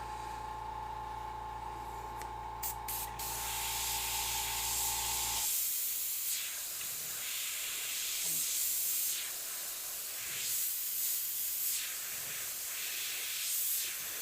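Airbrush spraying paint for line work on a skeleton clock piece: a steady, soft hiss of air and paint that swells slightly in waves, close and continuous, following a low machine hum that cuts off.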